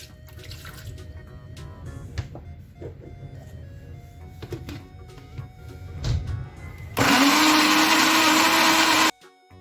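After some clinking and handling noises, a blender blending a sauce with bay leaves, broth, pepper and water kicks on loudly with a steady whirring roar for about two seconds, then cuts off abruptly.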